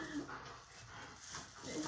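A dog whimpers with brief high whines near the start and end, fairly faint, with soft panting and low room noise in between.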